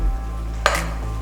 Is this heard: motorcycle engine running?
no